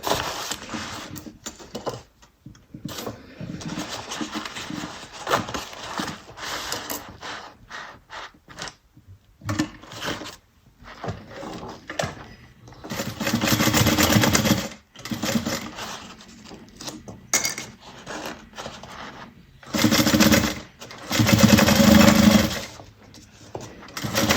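A sewing machine joining fabric bag pieces runs in several loud, close bursts of rapid mechanical clatter, separated by pauses with quieter handling sounds.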